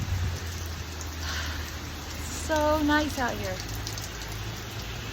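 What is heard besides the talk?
rain in Bora Bora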